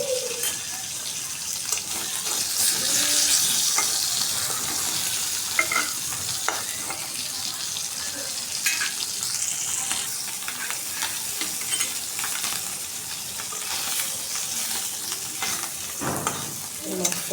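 Shing fish frying in hot oil in a wok, an ongoing close sizzle with scraping and stirring clinks as the fish is turned, and occasional sharp knocks throughout.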